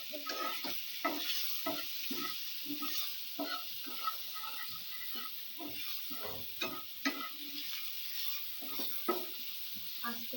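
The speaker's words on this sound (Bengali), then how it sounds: "আস্তে ধীরে সুন্দর করে ভেজে নেব" Chicken pieces frying slowly in medium-hot oil for a pizza topping, giving a steady sizzle with frequent clicks and stirring scrapes, close and moderately loud with no talking.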